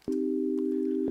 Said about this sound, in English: That's the sound of the minor